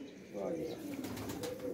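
Pigeons cooing on a rooftop, a brief soft coo close by amid faint background noise.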